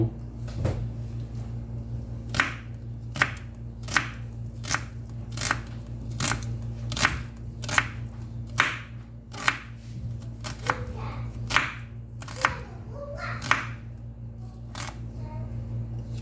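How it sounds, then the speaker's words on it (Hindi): A knife chops onions on a board for a vegetable omelette, striking in steady, crisp cuts about once a second over a constant low hum, with no voices. "सबसे पहले हम प्याज काटेंगे।"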